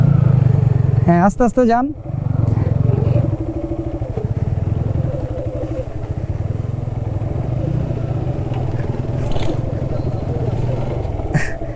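A motorcycle engine runs under light throttle, a low, steady mid-pitched chug continuing under a man giving loud spoken instructions, with a brief louder voice near the start.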